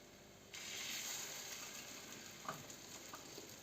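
Quiet steady sizzling of potato pieces coated in flour and egg frying in oil, with a faint clatter partway through.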